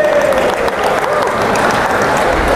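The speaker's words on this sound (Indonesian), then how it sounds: "Berikan tepuk tangan yang meriah untuk para dewan juri." Loud, steady applause from an audience welcoming the judges at an Indonesian contest, a dense wash of clapping that holds evenly for a couple of seconds with a faint tone running beneath it.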